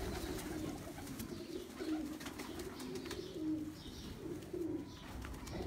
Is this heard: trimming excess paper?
no